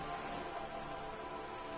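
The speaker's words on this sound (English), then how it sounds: "All around you, rain keeps falling down. On the wooden boards she's standing on, and on the water around you." Steady rain falls on wooden boards and open water in the video game Disco Elysium, a dense, even hiss with no breaks, heard alone at moderate level.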